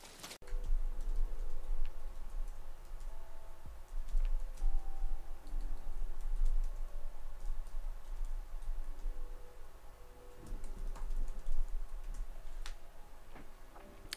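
Computer keyboard typing, rapid irregular clicks continuing steadily at close range with no talk.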